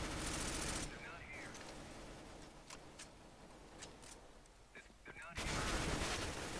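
Gunfire in the video game CS:GO, a dense roar of shots at the start and again at the end, with scattered sharper single reports in between.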